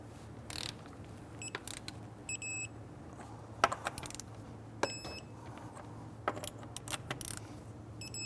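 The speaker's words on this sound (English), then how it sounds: "Now we want to go ahead and torque down our lug nuts to 100 foot-pounds." Lug nuts on a 2011-2021 Jeep Grand Cherokee being torqued to 100 foot-pounds with a torque wrench give off scattered metallic clicks, rattles and clinks, close and moderately quiet, with no talk.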